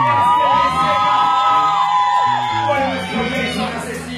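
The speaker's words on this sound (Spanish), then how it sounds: "Un aplauso para Eduardo." A concert crowd at a live rock show cheers and whoops loudly for Eduardo, with shouted, wavering voices rising over a dense crowd roar.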